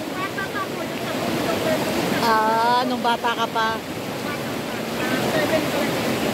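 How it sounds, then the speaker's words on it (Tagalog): Strong current of a river near Daet rushing steadily as a broad, loud watery wash, with people talking and exclaiming over it throughout. "ang lakas ng agos"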